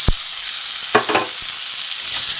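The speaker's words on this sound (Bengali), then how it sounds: "একটু ভালো করে কষবো।" Grated ginger with cumin and coriander powder frying in a pan, giving a steady soft sizzle with a few sharp stirring scrapes and clicks near the start and around one second, no voices.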